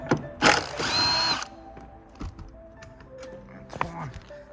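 A 12 mm bolt is removed from an R34 Skyline's rear seat mounting, starting with a loud burst from a power tool followed by quieter ratcheting clicks and handling noises, while a person talks nearby.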